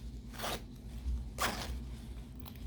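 Two quick rasping zipper pulls, then a fainter third, come from a zipper being handled for a sewn accordion wallet, close up over a quiet low hum.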